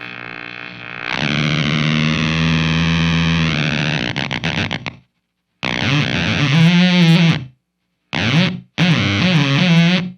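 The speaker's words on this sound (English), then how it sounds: "The more I bring this up, the more you're going to hear some noise creep into the signal." Loud fuzzed guitar through an NRG Effects Mauler fuzz pedal sustains with a harsh, buzzing noise layer, then wobbling, chaotic bursts cut by abrupt silences.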